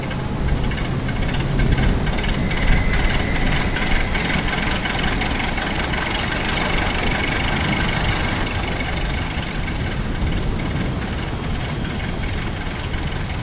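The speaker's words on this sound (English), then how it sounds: "What was that engine?" Engine of Proteus running, a steady loud mechanical rumble with a rhythmic knocking beat that holds at an even level for the whole stretch, no voices.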